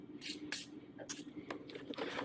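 Quick, faint hissing spray bursts coat the tip of an airway tube on a medical training manikin, about five short puffs in a loose rhythm up close.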